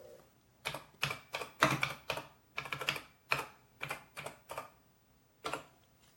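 Keys clack on a Heathkit H89 computer keyboard in short bursts of quick presses separated by pauses, close and crisp in a quiet room.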